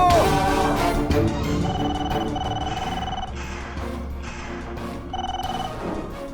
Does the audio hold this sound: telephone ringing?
yes